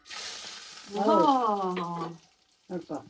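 Chillies and garlic fry in a hot pan for a masala, with a soft crackling sizzle at the start that continues beneath a humming voice and brief speech.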